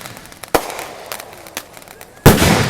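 Fireworks burst at Boom City in Tulalip, Washington, sharp loud bangs and pops going off at irregular intervals over a crackling, noisy outdoor background, with a big close blast near the end.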